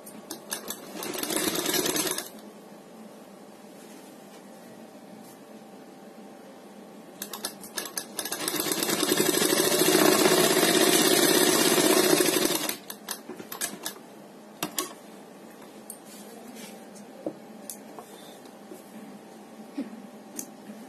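A sewing machine stitches the centre seam of a kurti neck piece, running in a short burst, then a longer steady whirring run, with scattered clicks and handling noises between stitching passes.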